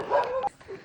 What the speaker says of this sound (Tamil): பாருங்கள் சுற்றி நாய் போட்டு தள்ளுது